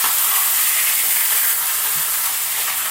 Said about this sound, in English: I'm going to flip it over.